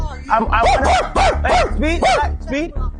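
A person playfully imitates a dog, letting out a quick series of yipping barks in a close, loud voice.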